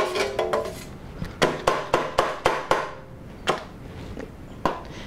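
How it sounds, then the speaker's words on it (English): A metal grater is shaken and tapped against a surface to knock loose grated lemon rind, giving a run of about a dozen sharp, ringing clatters in quick bursts, close and fairly loud, with no talk. "you pull your grater off, give it a bit of a shake,"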